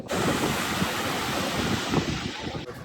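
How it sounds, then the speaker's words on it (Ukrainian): Strong wind roars and buffets the microphone at a seaside bay in Mallorca, with surf washing underneath, steady and loud throughout before cutting off. "бо тут дуже прям вітряно"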